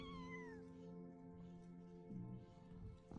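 Lynx cubs in the video game Shelter 2 give a few high, thin mewing cries, one near the start and more toward the end, over soft ambient game music.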